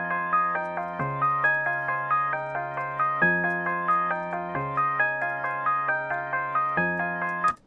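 Chord progression moving from the one chord down four, played on a bell-like keyboard tone with a repeating plucked pattern over shifting bass notes, soft and steady.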